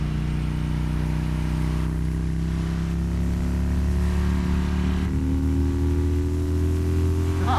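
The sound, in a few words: Harley-Davidson Road King motorcycle engine while riding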